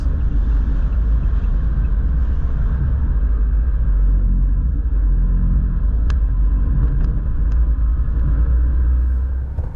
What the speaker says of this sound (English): Just take it around this turn quick and see how the all-wheel drive system works.